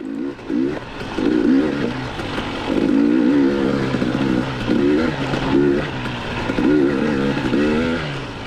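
A Beta XTrainer dirt bike is ridden hard on the throttle through a rocky trail section, its engine revving up and down in repeated surges, loud and close throughout.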